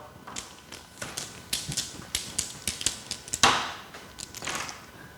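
Marker or chalk writing on a board during a Korean biology lecture: a quick series of sharp taps and scratchy strokes in an uneven rhythm, close and fairly loud, with one longer scrape partway through and no talking.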